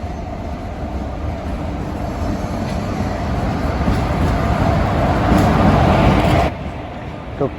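The Sambalpur Express pulls into a station platform with a steady, loud rumble of wheels and carriages, building gradually and then cutting off near the end.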